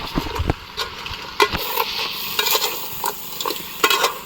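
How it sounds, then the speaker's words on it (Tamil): Crab pieces sautéing in a pan for a home-style crab gravy, with a steady close sizzle broken by repeated scraping stirs of a spoon against the pan, no talking. "நண்டு நல்லா வதங்கிட்டு இருக்காப்புல."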